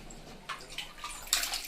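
Hot water poured at home while cooking boti and ragi mudde country style, a faint splashing trickle in short bursts, close by with no talking.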